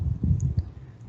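Calculator keys being pressed: a few small, light clicks spaced irregularly over a brief moment, close and fairly faint, with no talking.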